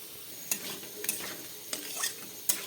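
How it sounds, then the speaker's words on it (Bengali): Katla fish being stirred into a sizzling yogurt masala in a pan: a steady low fry with a few sharp spoon-on-pan scrapes and knocks at irregular intervals, close and fairly quiet, with no talking. "দইটা দিয়ে বেশি ভাজা করবো না, একটু নেড়ে চেড়েই মাছগুলো দিয়ে জল দিয়ে দেবো।"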